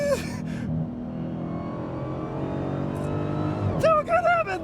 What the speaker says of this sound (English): I'm going to lay into the throttle